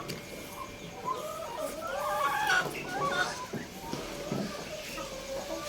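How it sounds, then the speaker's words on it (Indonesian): Spent laying hens on a farm integrated with black soldier fly maggot rearing cluck and squawk nearby in a busy yard, mixed with distant voices and background chatter. "Di sini ada ayam-ayam yang kami ternak"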